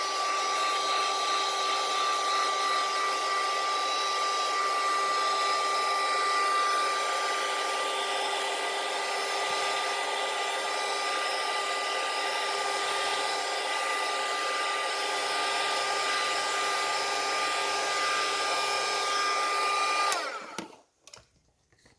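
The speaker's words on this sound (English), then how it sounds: "So this is my heating tool. I'm just going to heat it up to help it dry quicker." A handheld craft heat tool blows hot air steadily over a watercolored sunflower card, a loud continuous whirring hiss that runs unbroken for about twenty seconds before cutting off abruptly.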